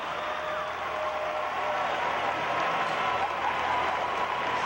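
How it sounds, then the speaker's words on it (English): A large crowd applauds steadily at a college women's gymnastics meet, UCLA against Georgia, the dense clapping holding at an even level throughout with no break. "And what a great crowd."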